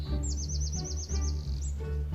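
A small bird, a sparrow, gives a quick run of rapid high chirps followed by one more brief call, heard over steady low background music.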